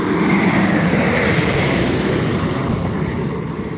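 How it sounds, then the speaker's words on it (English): Several helicopters circling over a wildfire scene, including a CH-46, give a steady, loud rotor and engine roar that fills the air without pause or voices. "There are still 6 helicopters on scene."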